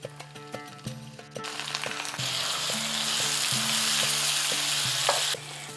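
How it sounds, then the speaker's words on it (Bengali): Ginger paste fries in hot oil with browned onions in a pan while a Rui fish curry is being prepared. After a few soft clicks and knocks, a strong, steady sizzle kicks in, holds close and loud for several seconds, then cuts off abruptly. "তিরিশ সেকেন্ডের মতন আদাটাকে ভেজে নিয়েছি"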